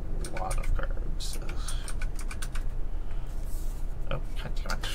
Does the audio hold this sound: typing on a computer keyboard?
yes